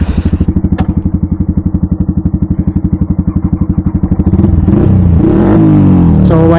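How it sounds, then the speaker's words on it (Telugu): Two Yamaha R15M 155cc motorcycles, one stock and one with an Akrapovic full-system exhaust and no dB killer, rev loudly with a rapid, steady engine pulse that rises into a harder, louder roar near the end. "R15M after market and R15M స్టాక్కి ఇప్పుడైతే డ్రాగ్ రేస్ చేయబోతున్నాము"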